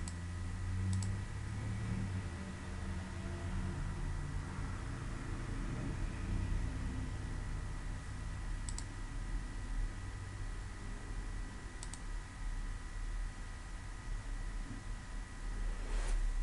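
A handful of faint, sharp mouse clicks, spaced several seconds apart, while someone steps through the admin settings of DigiPlus 2011 software, over a steady low hum with no voices.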